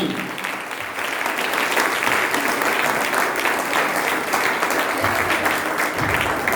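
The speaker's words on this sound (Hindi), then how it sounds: "एक जोरदार ताली दूंगा, जोरदार ताली" Audience at a business leadership event in Agra gives enthusiastic applause, dense clapping that swells after a second and holds loud and steady, with little talk.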